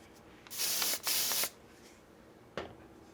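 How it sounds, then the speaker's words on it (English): Two close, loud hisses of an aerosol hairspray in quick succession, followed by a short third puff after a pause. "Make sure you give that a good spray"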